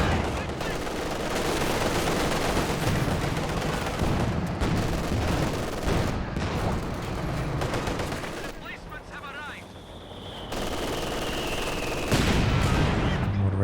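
Artillery rounds land across the map in a Company of Heroes 2 1v1 match between Soviet and Oberkommando West forces, heavy thuds amid steady machine-gun and small-arms fire, with a commentator talking over the din.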